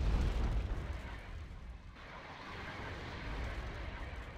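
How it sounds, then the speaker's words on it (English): Artillery fire from AMX 13 AU self-propelled guns in Wargame: Red Dragon, a dense rumbling wash of booms with a heavy blast at the start, then sustained low roaring bombardment. "they are constantly being artied by these AMX 13 AUs, which have a decent fire rate"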